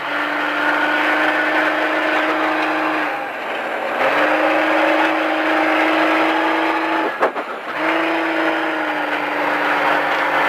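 Race car engine on a track, droning steadily at high revs, briefly dropping as the driver lifts, then rising again under renewed throttle.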